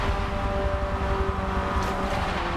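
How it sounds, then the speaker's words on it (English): Race cars rev in place at the start line of a Forza Motorsport 7 Veloster N Cup race, a dense, steady engine drone with a sustained tonal whine and no speech. "We're all revving for the start."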